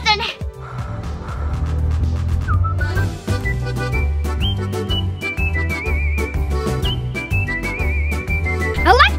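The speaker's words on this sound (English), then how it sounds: "you're gonna make some music using the whistles of the wind" A catchy whistled melody rides over a steady, upbeat music backing for the full clip, playing as part of a kids' ninja-and-pirate treasure toy game, with a short gasp-like sound at the start.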